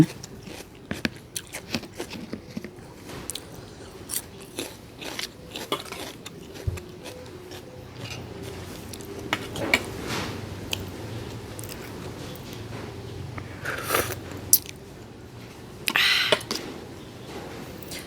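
Crunchy chewing and biting of fresh raw garden vegetables dipped in Thai shrimp-paste chili sauce, close and intermittent, with soft clicks and bites recurring over a quiet room, brief murmurs now and then.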